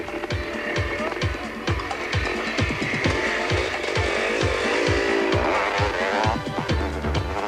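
A 500cc Yamaha motorcycle races past with a loud, rasping engine and rapid rhythmic pulses, sustained close up through the whole stretch, with other bikes mixed in.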